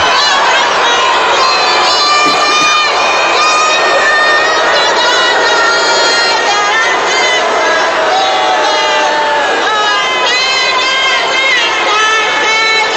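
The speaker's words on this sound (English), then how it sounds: "You can hear them booing her." Stadium crowd reacting to a woman singing the national anthem, a loud continuous roar of many voices with wavering tones running throughout, close and dense, with no single clear voice standing out.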